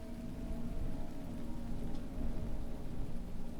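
Rain ambience plays as background during a tabletop role-playing session: a steady, even patter of rainfall with a low rumble underneath and no voices.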